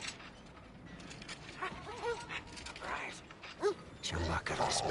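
An injured dog in the video game Mad Max whimpers in short plaintive whines amid creaking, mechanical game sounds, moderately close and fairly soft.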